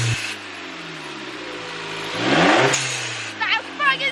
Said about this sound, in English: Let's listen to the blow-off valve.